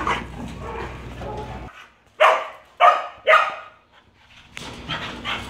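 Hound dogs at an animal shelter give three loud, close barks in quick succession between softer whimpers, with rustling and quiet handling noise before and after.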